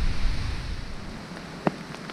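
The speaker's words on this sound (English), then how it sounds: "Here comes the rain" Rain falls steadily outdoors by a fishing pit, a broad close hiss with one sharp knock partway through and no voices.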